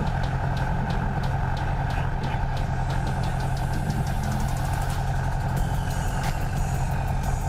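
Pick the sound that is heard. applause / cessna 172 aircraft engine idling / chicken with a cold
cessna 172 aircraft engine idling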